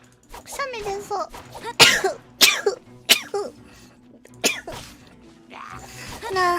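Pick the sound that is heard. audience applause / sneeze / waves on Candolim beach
sneeze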